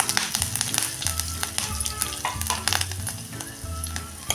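Thinly sliced green chilies crackle and sizzle loudly in hot oil tempered with cumin and asafoetida for a green moong dal kadhan, with steady dense frying and occasional clinks of a spoon stirring the pan.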